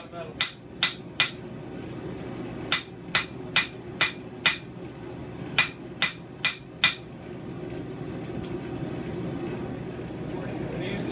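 A blacksmith's hammer rings on metal at the anvil while a piece is straightened and forged, the stock cooling too much to move easily. About a dozen sharp, clear strikes land in three quick bursts over a steady low hum.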